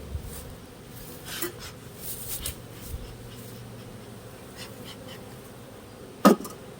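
Honeybees hum faintly around a hive in the open, a low, thin drone with a few louder passes close by and one sharp tap near the end.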